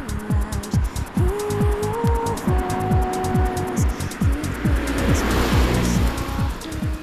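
A rear-wheel-drive BMW 220i coupe with a TwinPower turbo engine and 8-speed Steptronic gearbox accelerates hard. Its loud engine note repeatedly rises and drops through quick gear changes, with rushing road and wind noise close by.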